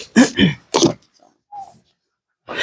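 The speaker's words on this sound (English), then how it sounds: "That's Josh coming in the front door." A front door opening with a short, faint creak that rises and falls for a moment, heard alone in a quiet room. Loud speech from a nearby voice comes just before it.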